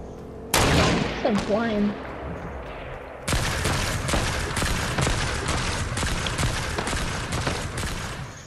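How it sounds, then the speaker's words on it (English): Robots in a shooter game fire rapid bursts of gunfire, a loud crack and brief spray, then a long sustained volley of sharp repeated shots up close, while a person talks over the start. "I'm getting shot at by these little freaking robot things."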